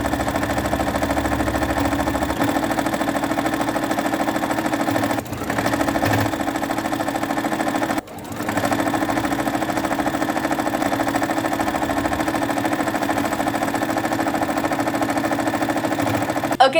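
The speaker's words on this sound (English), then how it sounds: "Okay, we are ready to sew." A sewing machine stitching fabric scraps into a patchwork blanket, running in a steady fast mechanical whir with rapid needle chatter, close and continuous, broken only by a couple of brief pauses.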